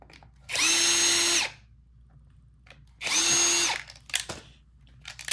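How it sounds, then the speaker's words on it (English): A power drill backs screws out of a Bissell CleanView vacuum, heard close up as two steady whirring bursts of about a second each with a quiet pause between, and no talking. "Now we're gonna remove the 2 top screws."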